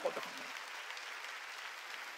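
A church congregation claps along through an entire short stretch, steady and fairly loud, and a voice is heard briefly at the start.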